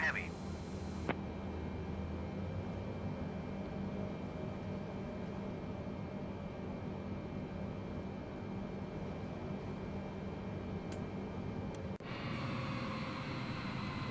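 A Boeing 787-10 rolls for takeoff in Microsoft Flight Simulator, a steady, even engine roar and broadband rush holding throughout, with a brief click near the start and a slight shift in tone near the end.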